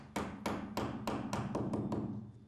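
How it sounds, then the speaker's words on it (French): Hammer blows drive nails into plastic anchors that hold acoustic insulation panels on a wall. Six sharp, evenly spaced strikes sound close and clear against a steady low hum. "le clou se fixe ensuite d'un coup de marteau"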